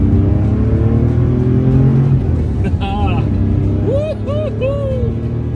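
A 1974 Porsche 911 Carrera pulling away on a test drive, engine note loud and steady inside the cabin, with revs rising in short repeated surges toward the end.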